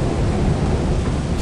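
Rolling thunder from stormy weather in the video game Lethal Company, a steady loud low rumble that fills the whole moment without breaks.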